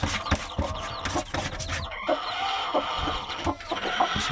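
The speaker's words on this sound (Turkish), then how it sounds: "Burası çok gürültülü. Tavuklardan benim sesim duyulmayacak." A crowded coop full of chickens clucking and calling loudly and continuously, with layered overlapping cackles and a busy, dense din throughout.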